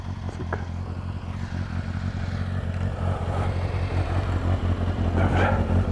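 A car and a small scooter pass along a country road. Steady engine rumble and whirring tyre noise build slightly as they approach, with no talking.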